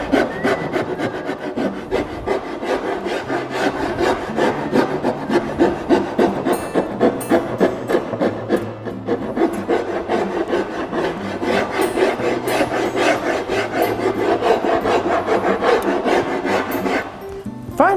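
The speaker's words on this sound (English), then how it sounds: "I can control all that with a spoke shave or a rasp." A rasp files and shapes the edge of a wooden table top in steady, continuous rhythmic strokes, close and fairly loud throughout with no talking.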